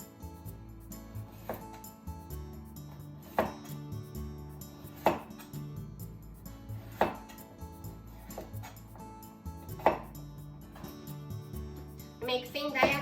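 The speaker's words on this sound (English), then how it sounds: "Make thin diagonal slices." A knife cuts thin diagonal slices through a peeled broccoli stem on a cutting board, giving sharp, evenly spaced taps every second or two over steady background music.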